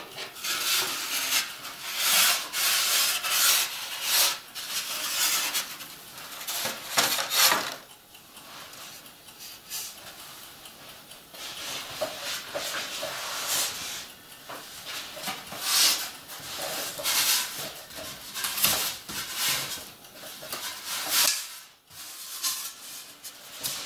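A wooden piece for a gauge 0 model railway station hotel is cut by hand, with bursts of rasping, rubbing strokes that come and go in uneven rhythm, close by and with no talking.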